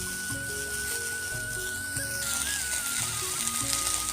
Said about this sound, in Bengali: এখন আমি এর সাথে আলুগুলো ভালোভাবে ভেজে নেব।